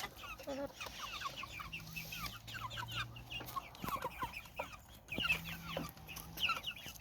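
Chickens cluck and chatter steadily while pecking at fresh greens scattered over corn feed in a winter farmyard, with a low murmur of clucks throughout and occasional louder calls nearby.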